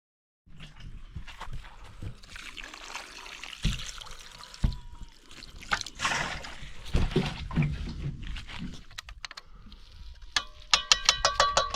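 Water is poured from a container into a cooking pot for a saltfish rundown at an outdoor fire, a soft uneven trickle and splash that comes and goes, with faint clatter near the end.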